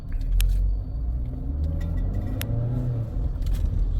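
A car with an engine misfire, suspected to stem from a failed head gasket, rumbles steadily as it drives up a road, a low uneven engine drone with faint ticking and no speech.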